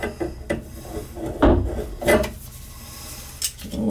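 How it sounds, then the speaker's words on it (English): Grinder-cut copper pipe being reamed during a tub and shower valve replacement, a few rough scraping strokes close up, uneven and rasping. "so it's always good to go in there and ream that."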